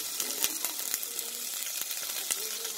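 Ginger and garlic sizzle in olive oil at the start of a quinoa, carrot and apple sauté, a faint, even crackle dotted with tiny pops and spits.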